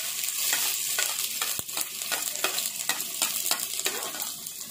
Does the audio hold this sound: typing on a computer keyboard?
no